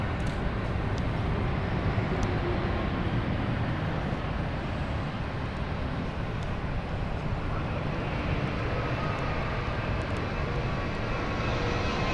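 An aircraft taxies to its stand at London City Airport, a steady low rumbling engine drone that stays broad and constant throughout, heard from a distance without any voices.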